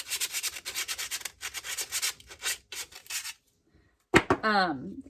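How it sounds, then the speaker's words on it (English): Sandpaper rubs paint off a Dollar Tree craft letter in fast, rhythmic back-and-forth strokes, close and steady for about three seconds, then pauses before a short, sharp final sound. "A piece of sandpaper is probably going to be your best option for this"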